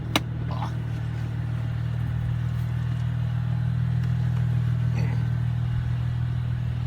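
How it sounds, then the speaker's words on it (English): A 2005 Mercedes C240 engine idles steadily with a freshly replaced muffler, a constant low hum close by with faint clatter and a brief tick near the start. "I changed the muffler on this."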